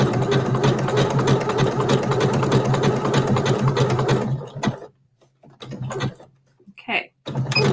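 A sewing machine stitches over rope with a fast, steady mechanical whir and needle chatter for several seconds, then stops, leaving quiet handling noises and a few brief knocks.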